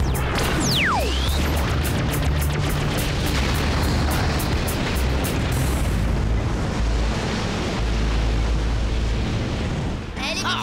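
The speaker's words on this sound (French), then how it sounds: "Oh, il a actionné le canon laser!" A cartoon laser cannon fires with a rising zap, then heavy booming explosions and crashing rumble roll on for several seconds, loud and dense, with a brief voice at the very end.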